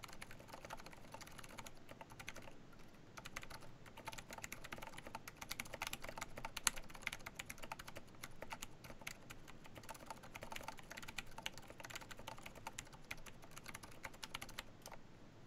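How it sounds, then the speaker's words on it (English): Rapid, forceful typing on a silent-switch keyboard: a dense, continuous patter of muffled keystrokes, fairly soft overall with no talking. "Let me type harder. Like I'm gonna slam the keys so you will hear them."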